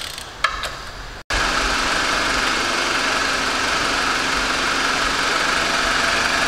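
A BMW X1 engine, just reinstalled after repair of oil leaks, starts with a brief crank and settles into a steady, even idle, loud and close.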